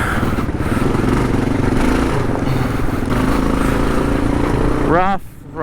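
A KLR650 dual-sport motorcycle rides a rough, rutted trail: a loud, steady engine drone with rattling and clatter fills most of the clip and drops away near the end, with a voice talking over it.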